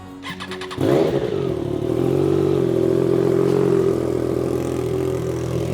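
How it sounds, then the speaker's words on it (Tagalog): A 2025 Triumph Trident 660 fitted with a shorty exhaust cold-starts with a brief cranking whir, then catches and settles into a loud, steady, slightly raised idle close by, with no talking. "i-cold start muna natin ang motor para painitin"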